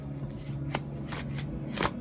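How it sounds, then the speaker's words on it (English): A deck of cards being shuffled by hand at a high tabletop, with a steady riffling flutter and a few crisp snaps as the cards fall together, close and fairly quiet. "I learned how to shuffle the other day, but these cards don't really want to work today with me."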